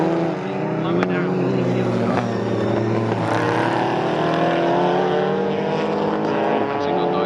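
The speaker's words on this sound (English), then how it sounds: "Just on the overrun there, that's rumbling down through the gears." A race car engine at Snetterton roars continuously, its pitch falling and rumbling as it downshifts on the overrun, with overlapping mechanical drone and no pause in the noise.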